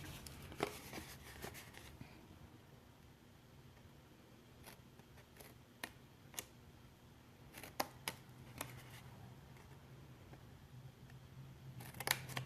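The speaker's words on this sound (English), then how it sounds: "cut straight along this rectangle because that's the side of the box" Paper treat box cut along a rectangle: quiet snips and crisp paper clicks come in scattered bursts over a faint background, up close and with no talking.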